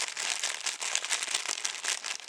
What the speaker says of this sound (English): I think we all know what a rustling bag of crisps sounds like.